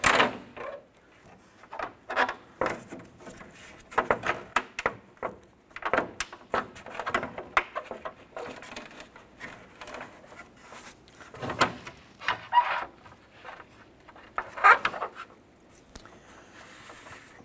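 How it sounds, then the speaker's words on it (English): Plastic grille being worked loose from a 1993-1997 Ford Ranger, with scattered close clicks, scrapes and light knocks as it is tipped forward and slid off, no talking. "Tilt that grill forward and slide it off."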